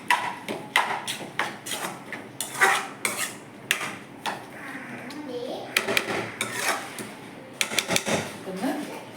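Prawns are stirred into biryani masala in a pot, with a spoon clattering and scraping against the metal in quick irregular knocks while people talk nearby.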